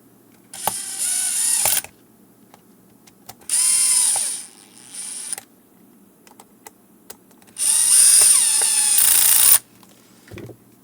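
Powered screwdriver driving screws into a Garmin or TomTom GPS unit during an SD card slot repair, three loud close whirring bursts of a couple of seconds each with short ratcheting clicks between them.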